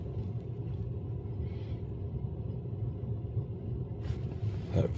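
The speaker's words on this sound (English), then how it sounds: "That fan a little loud in the truck." A fan runs loudly inside a truck cab, a steady low rumbling whir that stays constant throughout, with a faint click or rustle near the end.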